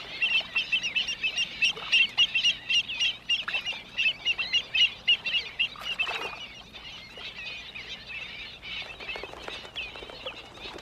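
Water birds and ducks call in rapid, chattering bursts over shallow lakes, a dense, continuous flock chorus with no talk, thinning somewhat in the later seconds.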